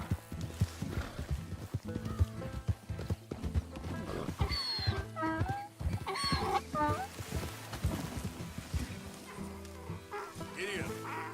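Horse hooves clip-clopping at a ride in Red Dead Redemption 2, a steady rhythmic patter mixed with animal snorts and calls, accompanied by game music and intermittent speech.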